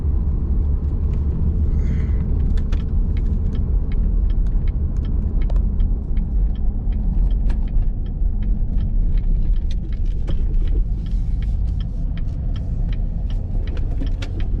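A Chevrolet Corvette C8 drives with a low, continuous engine rumble heard from inside the car, while faint clicks and rattles tick over it as the driver shifts down to second gear.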